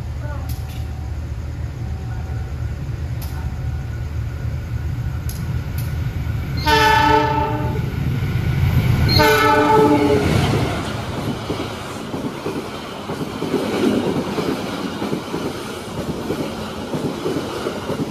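A Turangga train runs past on a single-track line in Central Java, a steady low rumble with rhythmic wheel clatter that swells to a loud peak midway as the cars go by, then fades.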